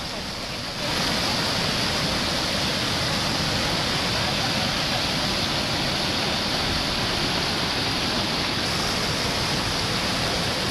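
Floodwater rushes through a swollen hill stream during heavy rain in Alluri Sitarama Raju district, a loud, steady roar of broadband noise that starts after a brief quieter opening and continues without break.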